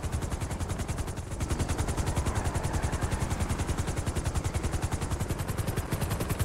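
Video game helicopter rotor chopping in a rapid, steady, loud beat that fills the whole stretch, with no other sounds standing out.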